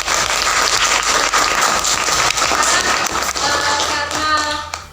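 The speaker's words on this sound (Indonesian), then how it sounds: "Oke, tepuk tangan buat kelas ini." A classroom of students applauding together, steady dense clapping that goes on for several seconds at fairly close range, with faint voices near the end.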